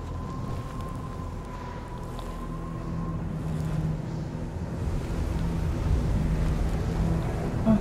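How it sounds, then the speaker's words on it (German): Steady broadband wind rushes and roars across the snowy mountain in the game Journey, building slightly stronger toward the end, with a faint tonal hum early on and no voices over it. "der Wind wird heftiger"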